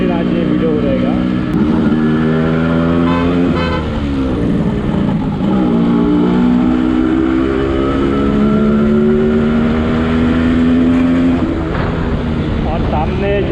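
A Yamaha RX135 two-stroke motorcycle on a ride through traffic, its engine loud and close, rising and falling with repeated revving and gear changes, with someone talking over it.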